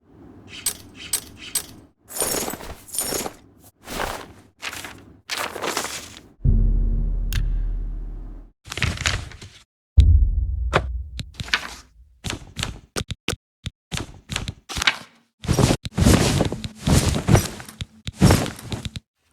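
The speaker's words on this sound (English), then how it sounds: "The UI sounds are definitely trying to honor the original game, but with completely new assets." A run of short digital clicks, chimes and whooshes from Oblivion Remastered menus, like selections and confirmations, with a low rumbling swell in the middle.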